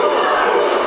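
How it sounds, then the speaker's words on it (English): A live crowd at an evening event for Team Harker roars in a steady, dense wash of cheering, loud and continuous for just under a second with no clear gaps. "Listen to this crowd, Johnstone. They've come alive here tonight for Team Harker."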